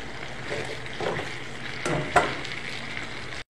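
Chicken feet drop into a hot pan seasoned with pepper and fry with a steady, close sizzle, along with a few brief stirring clatters and small pops, and no one talking.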